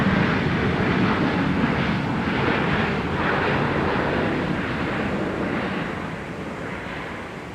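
A jet airliner touches down at Minneapolis–St. Paul Airport with a broad, steady engine roar and rushing noise that slowly fades as it rolls out.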